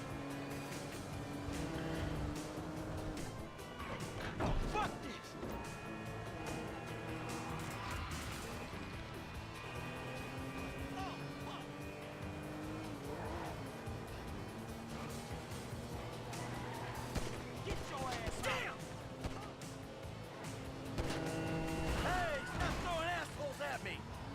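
Car chase in the video game GTA V, with continuous engine roar, tire and traffic noise and several crashing impacts, while a player's voice talks over the action throughout.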